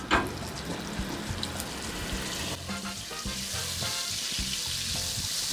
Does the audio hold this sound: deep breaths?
no